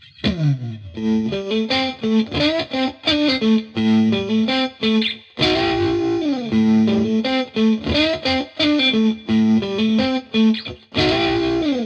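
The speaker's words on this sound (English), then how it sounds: "we've got the ring modulator effect. This is the craziest, glitchiest one in the pedal" An electric guitar plays short melodic phrases through the ring modulator setting of a Zander Circuitry Junipero pedal, a glitchy effect making the notes metallic, warbling and bell-like, loud and up close.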